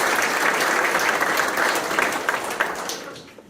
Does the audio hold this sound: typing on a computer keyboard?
no